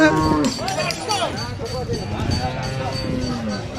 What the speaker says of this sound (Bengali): বিশাল বড় একটি গরু আসছে